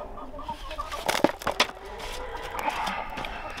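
Hens cluck while pecking at raw eggs offered as food, soft scattered clucks with a few sharp pecking knocks and scuffles nearby.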